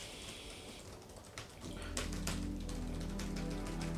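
Fingers tap on the keyboard of a Lenovo Legion Pro 7i gaming laptop in a quick run of crisp, clicky keystrokes, close up, over a low steady hum.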